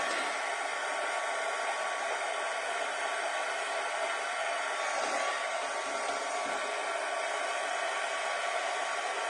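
A heat tool blows in a steady, loud, unbroken hiss as it flash dries ink on a handmade Christmas card, alone with no talking.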